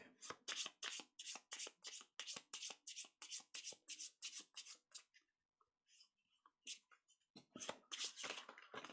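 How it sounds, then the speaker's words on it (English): Slippery playing cards for a solo trick-taking game are riffled in a rapid run of crisp, close flutters. A brief quiet pause follows, then another quick shuffle burst. "So we shuffle the cards up again."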